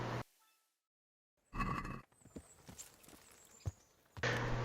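Horse hooves in the medieval video game Kingdom Come: Deliverance, heard as short bursts of clip-clop steps and thuds. The sounds are scattered between gaps of near silence and brief louder noise, with no speech.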